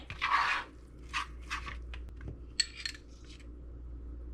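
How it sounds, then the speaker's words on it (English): A spoon scraping and clinking against a bowl while mixing thick Jiffy cornbread batter, a few separate bursts of stirring with pauses between, close and fairly quiet. "Going to keep mixing until we get the consistency we want."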